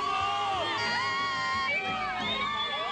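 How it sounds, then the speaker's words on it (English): A crowd of fans screams and cheers for a singer's arrival at an event, a loud, sustained wall of high shrieking voices and cheering with no pauses. "the crowd goes crazy"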